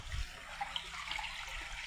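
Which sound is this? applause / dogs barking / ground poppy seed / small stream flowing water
small stream flowing water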